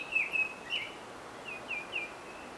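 An oriole sings distinctive whistled syllables in short, clear phrases separated by brief pauses, moderately distant and alone against a quiet outdoor background.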